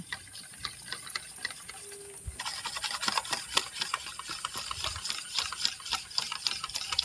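Eggs and milk being whisked together in a bowl for a pudding until frothy, a steady rapid clatter of the whisk that quickens and grows louder partway through, with no talking.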